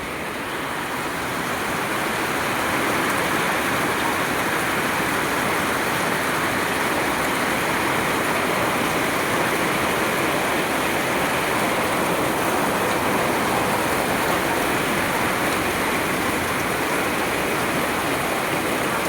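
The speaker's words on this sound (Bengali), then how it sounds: "এই বৃষ্টির বর্ষার ভিডিওটা তুলে ধরলাম।" Monsoon rain pours down in a heavy, unbroken roar, a dense wash of falling water that holds loud and constant throughout with no voices.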